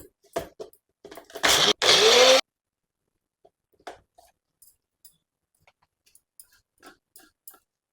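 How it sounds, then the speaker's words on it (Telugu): A kitchen mixer grinder whirs through coriander, mint, ginger and garlic with no water, two short loud bursts of grinding motor, followed by quiet clicks and small handling sounds. "వాటర్ కూడా అవసరం ఉండదు, డైరెక్ట్గా ఇలా మిక్సీ వేసేద్దాం"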